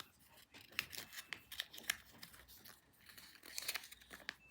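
Scissors cutting a square from paper, heard close and quiet: a series of crisp snips and rustling crinkles in an uneven rhythm.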